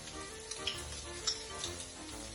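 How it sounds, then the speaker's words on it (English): Mushrooms and bacon browning in a frying pan give a steady sizzle with occasional light ticks and pops, fairly close and unbroken, with no talking. "Now what we're going to do is brown them mushrooms off,"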